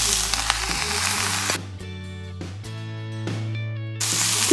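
Carrots tossed into a pan of onions frying until translucent, producing a steady loud sizzle with a low hum underneath and bright crackling that continues throughout.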